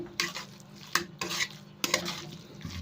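A spatula scrapes and chops through fried fenugreek greens with eggplant and potato in a pan, three or four sharp clattering strokes over a soft sizzle, close by with no talk.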